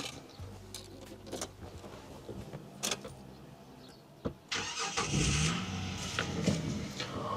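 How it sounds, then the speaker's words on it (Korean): A car engine cranks and starts after some clicks and faint handling noises, then settles into a steady idle nearby. "시동을 한번 걸어보도록 하겠습니다"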